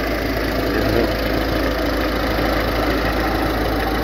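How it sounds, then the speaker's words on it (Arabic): A used car's engine idles at a second-hand car market, a loud, steady, close rumble with a slight knocking texture and constant vibration throughout. "هذا هي الموتور نتاعها"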